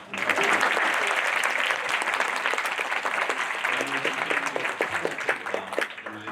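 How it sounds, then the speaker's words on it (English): Sustained audience applause at an Earth Day guest lecture, dense and steady, filling the room at full volume before tapering slightly near the end. "Let's give another round of applause."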